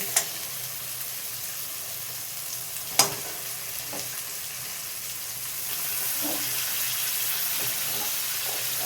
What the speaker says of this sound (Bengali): মশলা আমার ভাজা হয়ে গেছে, এবার দিয়ে দেবো মাংস